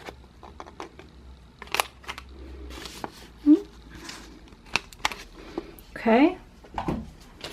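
Scissors trim the edge of a paper goody bag for packaging, giving a few close, short snips and paper rustles with quiet gaps between them.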